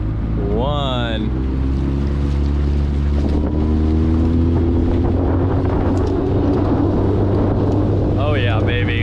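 A Sout 430 motorboat running at full throttle, a loud, steady low engine roar with rushing water and wind buffeting the microphone, close and continuous, with brief rising whines near the start and end.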